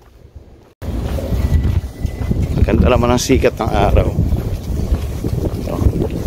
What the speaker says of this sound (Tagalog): Yun nga lang, medyo mahangin.